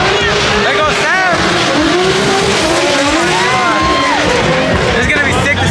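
A 1000HP BMW drift car screams past with loud, wavering tire squeal and roaring engine, with crowd noise and people talking over the continuous din.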